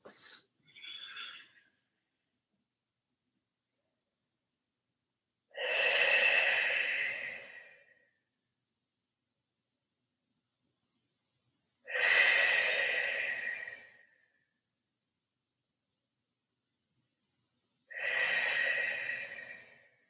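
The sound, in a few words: deep breathing during yoga child's pose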